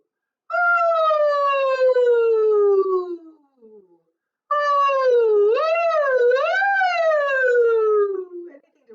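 Voices sing long downward-gliding 'ooh' slides in imitation of a siren during a vocal warm-up, two loud close phrases separated by a pause, the second swelling into a wavering wobble midway before sinking low.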